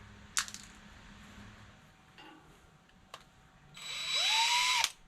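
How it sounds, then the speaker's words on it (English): A power drill whirs up briefly and then stops, drilling through metal, after a few sharp clicks and taps in a quiet room. "I'm just going to get a drill and drill right through it."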